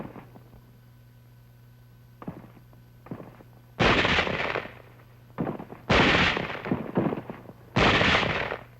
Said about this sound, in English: Elements of the 38th Division moving inland over rough hill country run into some sniper fire.